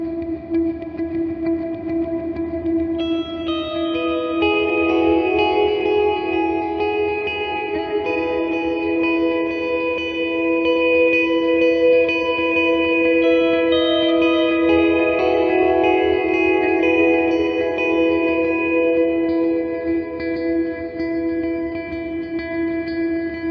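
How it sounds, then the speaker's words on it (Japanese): Guitar played through a Strymon BigSky MX reverb pedal using a stretched and reversed impulse response, sustained chords smeared into a lush, grainy, lo-fi wash of reverb with swelling tails, continuous and prominent with no talking. "このストレッチとリバース組み合わせたりなんかするとかなり今風の残響感が作れ"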